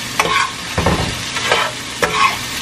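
Pasta for Alfredo sizzles and frys in a pan as a utensil stirs it in several scraping strokes, close and fairly loud, with no talking.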